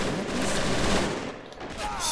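Gunfire rings out in a Valkyrie mod sniper duel: a loud, dense burst of shots close by that ends in about two seconds, with no speech over it.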